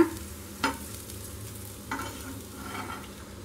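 Dosa frying on a hot pan under a cover, giving a steady low sizzle with a couple of brief sharp clinks or taps, close and fairly quiet with no talking.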